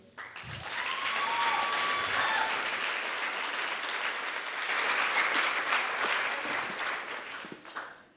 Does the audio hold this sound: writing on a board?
no